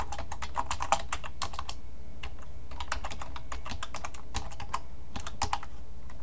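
Typing on a computer keyboard while adding a paragraph to a text file in Notepad++, a steady stream of close, crisp key clicks in quick irregular bursts with short pauses, no voices.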